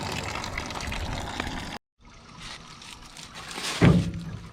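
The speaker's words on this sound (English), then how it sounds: "We got spinning fan, we got pumping water" Water trickles and splashes steadily from the pump of a not-so-old swamp cooler while its fan spins, with a brief cut to silence midway and a louder thunk of water near the end.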